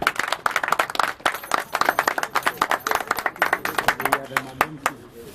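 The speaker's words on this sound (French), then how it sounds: "Je demande d'applaudir" An audience applauds at a community family gathering, with bursts of clapping that swell and fade over several seconds while voices talk and murmur throughout.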